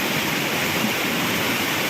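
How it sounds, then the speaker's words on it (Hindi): A flooded river pours straight over a bridge after heavy rain, a loud, steady, unbroken roar of rushing water filling the whole clip. "यहाँ पर नदी डायरेक्ट पुल के ऊपर से मैं आपको दिखा रहा हूँ"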